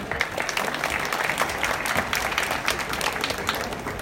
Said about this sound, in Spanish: Un aplauso para Lola